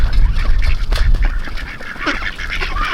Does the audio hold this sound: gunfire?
no